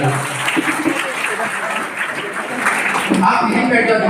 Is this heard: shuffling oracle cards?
no